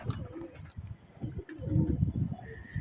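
Pigeons coo softly and repeatedly at close range, low throaty warbles rising and falling, with faint rustling and a few small chirps.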